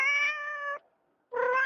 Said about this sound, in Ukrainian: Вона так гарно, ласкаво мяукає.